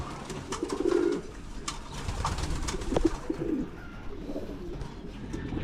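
Young pigeons coo softly inside a pigeon loft, low murmuring calls repeating over a steady background of rustling and ambient noise.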